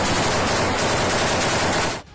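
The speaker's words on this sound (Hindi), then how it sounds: "जिसमें कादिरव के कई लड़ाके एक कमरे में खड़े होकर जोरदार फायरिंग करते नजर आए।" Chechen fighters firing heavily inside a room, a loud, continuous barrage of rapid automatic gunfire that fills nearly the whole stretch and then cuts off abruptly.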